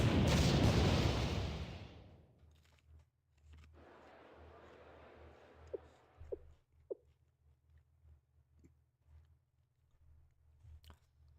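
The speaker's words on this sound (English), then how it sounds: "Is that an explosion?" A video game explosion opens as a loud, broad rumbling blast that decays over about two seconds, followed by quieter crackling debris and a few sharp pops.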